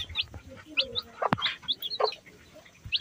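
A country hen and her chicks cluck and peep in short, scattered calls, near and fairly loud, with a sharp knock partway through.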